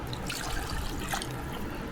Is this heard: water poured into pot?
yes